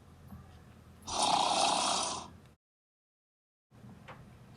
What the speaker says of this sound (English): Stop snoring, Bernard.